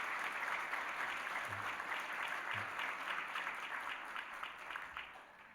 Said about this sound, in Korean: 우리 한번 다 일어나셔서 박수로 환영하도록 하겠습니다.